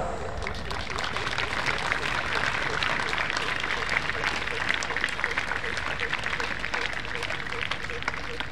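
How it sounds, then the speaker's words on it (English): Audience applause fills a school investiture ceremony hall, a steady dense wash of clapping from a large crowd sustained throughout with a faint murmur of voices mixed in. "let us welcome the gathering with a loud applause"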